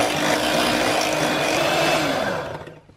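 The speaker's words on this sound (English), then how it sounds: "So we're going to whisk that in." Maple syrup whisked into a vegan strawberry cheesecake mousse mixture, heard as a steady, loud whirring mixer drone that fades away at the end, with no talking.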